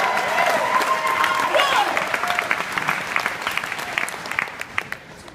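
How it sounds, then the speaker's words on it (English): Conference audience at a motivational comedy event clapping loudly, dense applause with some cheering that gradually thins and fades over several seconds; a voice rises briefly over the start. "Everybody should be clapping."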